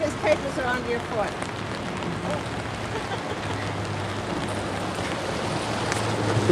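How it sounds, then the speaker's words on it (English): Rain patters steadily onto surfaces at an outdoor Tax Freedom Day rally in Vermont, a continuous soft hiss under a low electrical hum and murmuring voices, growing slightly louder toward the end. "Rain is a great enemy today."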